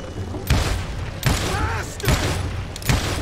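Gunshots in the Western shooter game Call of Juarez: Gunslinger, four heavy booming blasts spaced roughly evenly apart, loud and near, with a game voice briefly audible between them.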